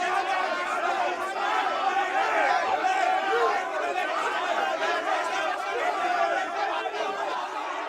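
Audience at an awards show murmuring in disapproval, a dense, steady crowd chatter with scattered chuckles, moderately close, no single voice standing out.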